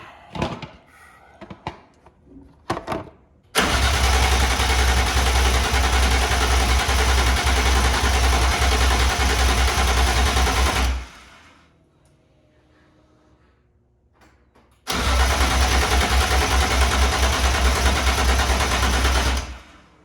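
On its first start, an E36 BMW with a swapped-in S54 engine is heard. After a few clicks it fires and runs loud and steady for several seconds, cuts out into near silence, then restarts and runs again.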